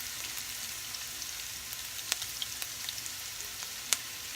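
Onion fries in a pan for a vegetarian pasta, giving a steady hiss of sizzling oil with scattered sharp pops and crackles, close and continuous, with no talk.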